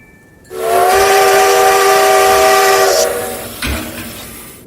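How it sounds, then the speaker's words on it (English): A steam locomotive arriving on a newly built railroad sounds a loud, sustained whistle for about two and a half seconds. Hissing steam and rail rumble trail after it, with no talking. "No, Chico, Bessie Lou is the name of the locomotive."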